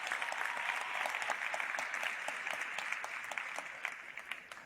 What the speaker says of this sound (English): A round of applause for our guests and the students on stage.